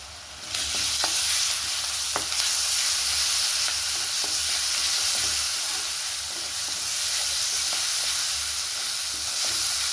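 Turmeric and ginger-garlic paste frying in a pan, a loud continuous sizzle with scraping stirs and occasional clinks of a spoon, close and steady.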